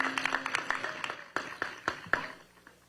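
Sparse, scattered hand clapping from an outdoor crowd in downtown Las Vegas welcoming the U.S. Capitol Christmas Tree; individual claps ring out fairly quietly and thin out toward the end.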